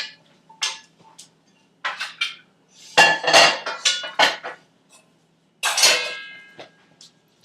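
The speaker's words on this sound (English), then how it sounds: "Give a good scrape to get everything out of there." Roasted garlic choux dough being scraped out of a pot with the heat off: close, intermittent scrapes and metallic clinks in several short bursts with pauses between, no talking.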